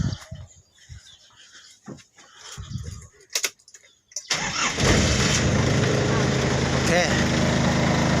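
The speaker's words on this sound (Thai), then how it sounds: "รถสตาร์ติดแล้วนะครับ" A Nissan Big-M pickup engine cranks and catches at about four seconds, then runs steadily and loudly up close; before the start there are scattered knocks and handling noises with a short cranking burst.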